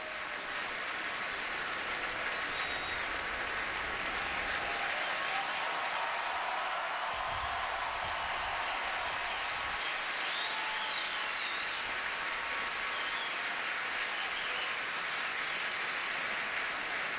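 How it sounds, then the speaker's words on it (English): A college football stadium crowd at Notre Dame versus Pittsburgh applauds as an injured player gets up, a broad, distant, steady roar of clapping and crowd noise that carries on at an even level throughout. "And there will be a big round of applause now for this young man when he gets up."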